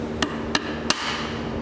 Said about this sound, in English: Take my hammer,